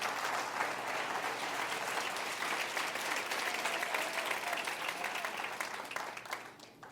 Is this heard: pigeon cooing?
no